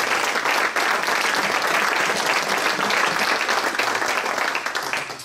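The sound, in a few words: audience applause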